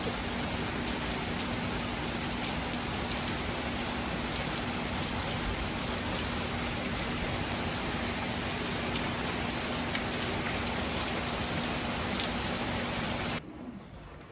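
Heavy rain pours down steadily in a dense, continuous hiss that stays loud and unbroken, with no voices, and the sound cuts off abruptly near the end.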